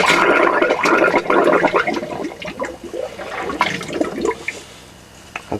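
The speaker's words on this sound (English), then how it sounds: "we'll just turn this tap all the way to hot, use your cloth over the end," Water gushes from a motorhome bathroom wash basin hot tap as it drains, with a cloth held over the spout, a loud continuous splashing rush that eases off toward the end.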